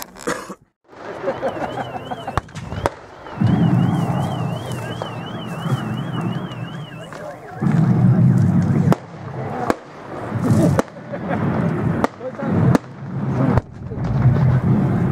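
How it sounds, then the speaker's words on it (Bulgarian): A bomb blast at a reenactment of the Battle of Pleven, with loud booms and sharp cracks bursting repeatedly over a noisy outdoor crowd, plus a wavering siren-like whine early on. "Видя ли бомбата е гръмна?"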